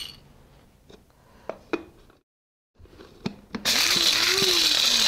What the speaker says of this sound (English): Grind the peppercorn.